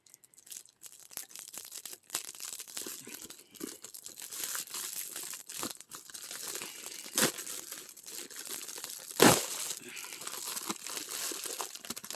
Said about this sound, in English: Guys, I'm going to have to cut this bag off.